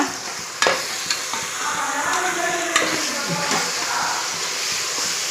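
Spiced double beans with curd, salt and chilli sizzle and hiss steadily in a pan while being stirred, with a few sharp scrapes and knocks of the spoon against the metal over the continuous frying noise.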